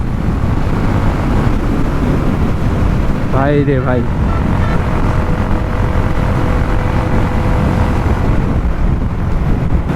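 Heavy, constant wind roar buffets the microphone while riding a Suzuki Gixxer Monotone motorcycle at over 90, loud and unbroken throughout, with a short exclamation from the rider partway through.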